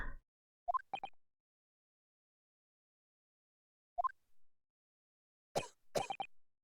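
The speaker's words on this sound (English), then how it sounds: "I recognize that cough anywhere." A few short, separate coughs in an otherwise quiet scene from the video game The Great Ace Attorney Chronicles, scattered across several seconds with silence between them.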